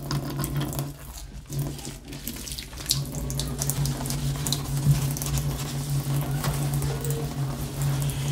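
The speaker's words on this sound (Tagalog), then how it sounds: "Yun lang, medyo mahina yung ano ng tubig." Water runs steadily from a newly installed kitchen faucet into a sink, a continuous soft splashing hiss with a low hum beneath, fairly quiet and uninterrupted throughout.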